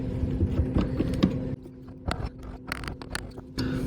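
A chisel pares wood from a dovetail joint, giving scattered close scraping and knocking strokes, with a low steady hum running underneath.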